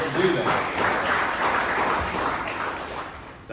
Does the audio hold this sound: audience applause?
yes